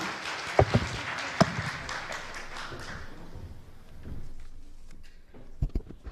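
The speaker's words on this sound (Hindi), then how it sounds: "इनके लिए जोर से ताली" Applause from the audience at the India News Manch stage event rises as a dense, even wash of clapping, then thins and fades out over several seconds, leaving a few scattered thuds and taps.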